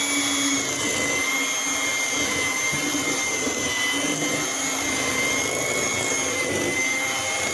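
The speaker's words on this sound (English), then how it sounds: "And now we'll just mix the egg up with the butter and the powder." An electric mixer beats egg with butter and powdered sugar for holiday sugar cookies, giving a loud, steady whirring motor drone that runs unbroken throughout with no talk.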